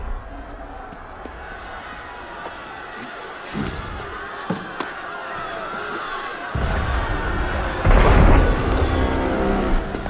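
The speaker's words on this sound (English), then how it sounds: "That was cannon fire." Cannon fire in the video game Assassin's Creed Unity booms as a couple of heavy distant blasts and rumbles over a restless background, with voices talking nearby.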